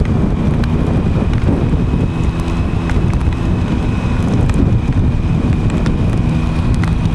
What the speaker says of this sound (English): I reckon I'll get out of this rain soon,